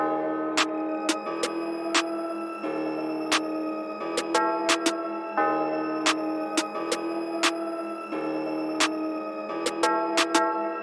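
FL Studio drum pattern of snares and claps panned left and right, crisp hits filling gaps in a bouncy repeating groove over a sustained melodic loop, clear and forward with no talking.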